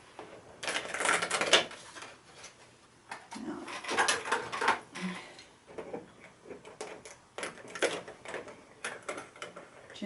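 A Brother ScanNcut machine cuts a foiled card pattern with close, soft rhythmic ticking and whirring runs that start and stop in short bursts, with a faint voice at times.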